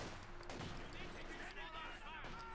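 Artillery and small-arms fire in Company of Heroes 2, a dense battle din of distant blasts and shots, with a commentator talking continuously over it.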